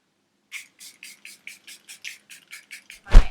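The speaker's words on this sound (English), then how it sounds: "and then your setting spray" A rapid series of about a dozen short, evenly spaced spray bursts from a makeup setting spray pump bottle, each a crisp hiss, ending with a louder thump or clatter.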